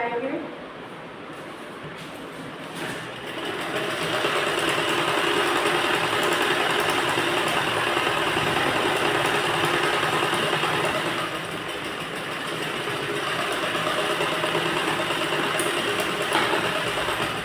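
A sewing machine stitches a sleeve seam on a belt blouse, running as a steady, fairly loud mechanical whir that carries on nearly unbroken, dipping briefly in the middle, with someone talking over it.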